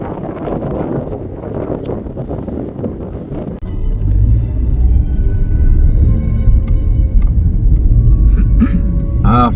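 A car rolls along a corrugated Australian gravel road near Bittangabee Bay on the New South Wales coast, giving a loud, steady low rumble with buffeting wind noise and scattered rattles from the cabin.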